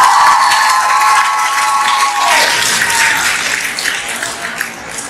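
An audience at a Lahore poetry mushaira breaks into loud, sustained applause, a dense wash of many clapping hands that holds steady and then gradually thins out.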